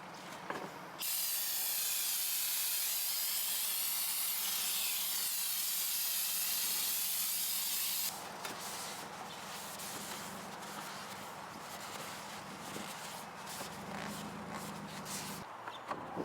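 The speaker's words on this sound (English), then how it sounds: "Go ahead and spray down the pan and the bolts" A loud, steady aerosol brake cleaner spray hisses continuously for several seconds onto a Jaguar XJ6 transmission pan and bolts, then stops, followed by quieter rustling and handling noises.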